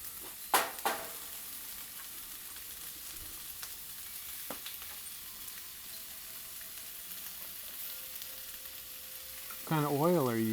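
Fajitas fry in avocado oil on a Blackstone 36-inch griddle, a steady soft sizzle that runs the whole time with a few sharp clicks of utensils near the start, then a brief tonal squeal near the end.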